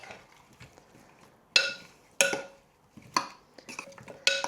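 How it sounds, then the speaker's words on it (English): Food stirred in a pan with garlic and seasoning during meal prep: a few sharp metallic scrapes and clinks of a utensil against the pan, spaced irregularly, close and clear against a quiet background. "give a little stir"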